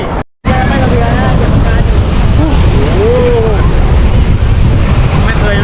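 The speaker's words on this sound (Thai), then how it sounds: "โอ้ย ลมแรงด้วย ตรงตรงแถบนี้ลมแรงมากเลย" Strong wind below a dam at a waterfall in Nakhon Nayok buffets the microphone in a loud, continuous roar, with rushing water beneath and a brief dropout near the start.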